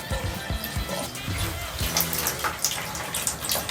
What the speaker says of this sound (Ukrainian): Заливаю ще один літр поживного розчину.